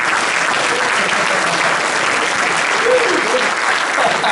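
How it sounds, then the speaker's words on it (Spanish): A church congregation applauds during a sermon, loud dense clapping from many people sustained throughout, with a few faint voices mixed into the clapping. "Dale un aplauso al Señor"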